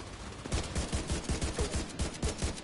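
A deployable turret in The Division 2 fires continuously, a steady rapid stream of sharp gunshots with a regular rhythm, loud and close, with no talk over it.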